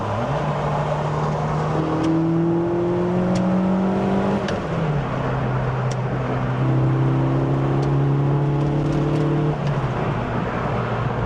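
A small car with an enlarged A-Series engine accelerating through the gears, its loud engine note rising steadily, dropping at a gear change and climbing again, heard from inside the car.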